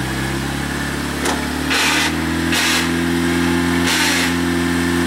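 An off-road vehicle's engine revs on slick rock, a loud, close, sustained mechanical drone with several sharp bursts of throttle surging over the steady idle, and no talking.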